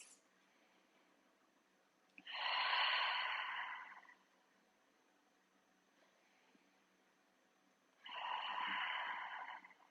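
Two slow, deep breaths during a seated twist stretch, each a soft, airy rush of a couple of seconds separated by quiet, close and gentle with no talk.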